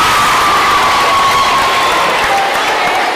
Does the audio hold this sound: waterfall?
no